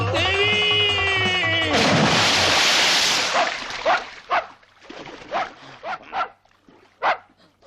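Dog barking in a comedy scene: an initial burst of loud noise gives way to a string of sharp, separate barks, fairly close and spaced irregularly.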